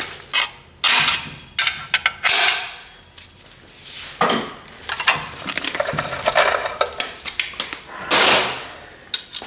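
A screwdriver seats a snap ring over a pushed-down piston inside a Ford 4R100 transmission, giving a string of close, sharp metallic clicks, scrapes and creaks in uneven bursts with brief pauses between.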